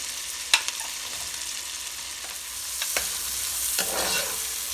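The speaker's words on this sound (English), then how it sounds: "keep stirring a bit, give it a nice gentle stir" Chopped onions frying in a pot for crab chowder, stirred steadily, with a soft continuous sizzle and a few sharp scrapes and clinks of the spoon against the pot.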